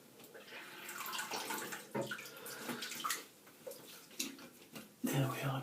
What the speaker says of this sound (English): There we are, just a drop of fresh water there.